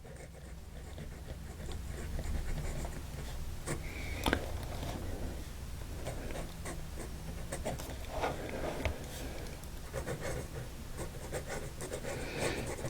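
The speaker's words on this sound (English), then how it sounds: "It can lay down a nice fine line. It takes no pressure to write with." A 1930s Waterman Ripple #7 fountain pen with a soft, fine nib writes on paper, giving faint, close scratchy strokes in short irregular bursts over quiet room noise.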